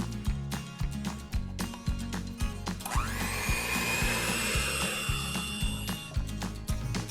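An electric mixer whirs steadily through mocha loaf cake batter after buttermilk goes in, its motor pulsing in a close, rhythmic drone with a brief rising whine partway through.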